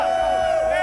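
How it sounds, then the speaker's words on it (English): Indonesian supporters at the FIFAe World Cup 2024 eFootball console final cheer and whoop, a brief, dense crowd roar with high shouted voices rising above it. "The cheering speaks for itself."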